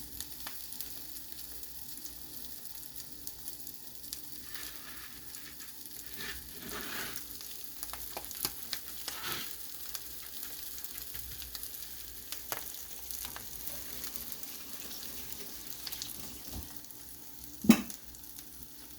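Already-cooked tuna fries in a pan with a steady, close sizzle and crackle throughout, joined by a sharp utensil clatter near the end; no one speaks.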